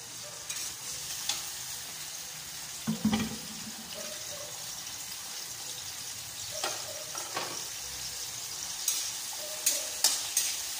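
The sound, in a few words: tomatoes sautéing with garlic and onion in a pan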